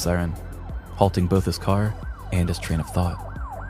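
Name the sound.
police siren sound effect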